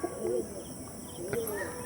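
Pigeons coo softly nearby in a short burst of low, warbling calls under steady background noise, while someone talks over them.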